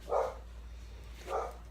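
A dog barks in two short bursts about a second apart, indoors and moderately near, over a low steady hum with quiet gaps between the barks.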